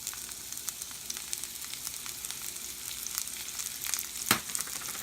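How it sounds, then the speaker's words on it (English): Onions dumped into a hot frying pan with vegetable oil sizzle and crackle steadily, close and fairly quiet, with small pops and one sharper spatter near the end. "our frying pan is hot. We're going to dump in our onions."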